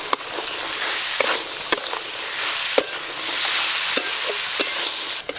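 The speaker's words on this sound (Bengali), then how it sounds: "সেদ্ধ করে রাখা ছোলা দিয়ে দেব।" Boiled chickpeas tipped into hot spice mixture frying in oil in a pan, a constant sizzle broken by sharp scrapes and clacks of stirring.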